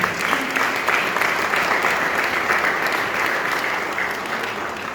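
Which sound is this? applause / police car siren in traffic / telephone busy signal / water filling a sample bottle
applause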